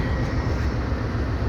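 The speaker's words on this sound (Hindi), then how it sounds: "इतनी बड़ी रेलगाड़ी है, ये देखो" Long freight train travelling from Karachi toward Islamabad rolls through Bahawalpur railway station, a loud, close, continuous low rumble and roar of wheels and wagons, with no talking.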